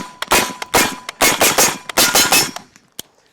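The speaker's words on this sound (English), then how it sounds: "we'll shoot the ballistics gel" A rapid string of loud, sharp gunshots from a .223 Rem rifle firing DRT TerminalShock 79 grain hollow points into ballistics gel outdoors, about a dozen cracks in quick uneven succession, then a couple of isolated shots trailing off.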